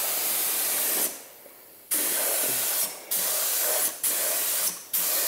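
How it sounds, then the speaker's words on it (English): Spray gun applying paint to a 1JZGTE-powered LJ Holden Torana, close hissing bursts: one long spray, a pause, then four shorter passes in steady rhythm. "put a bit less paint on for your first coat"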